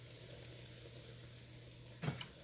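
A pork chop fries in a pan with a steady, faint sizzle over a low hum, and a short burst of crackle near the end.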